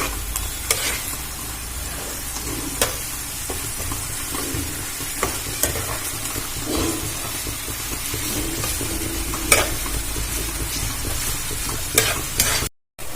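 Ginger garlic paste stirred and fried with tomato in a pan for a pomfret curry, a steady sizzle with repeated scraping spatula strokes throughout, close and alone.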